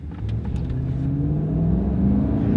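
A Chevy four-wheel-drive pickup truck with an automatic transmission pulls away from a stop, its engine rising steadily in a deep rumbling rev that grows louder, heard from inside the cab.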